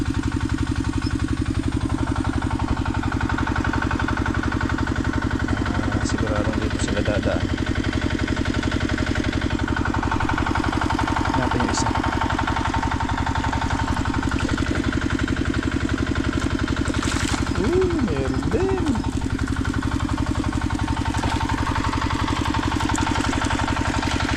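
An engine runs steadily on a waterway, holding a low, even droning idle close by for the whole stretch, with faint voices now and then.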